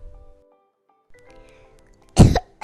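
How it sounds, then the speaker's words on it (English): A child coughs at night, a short burst of two or three loud, close coughs that follows a stretch of quiet room sound and faint low tones. "I'm coughing."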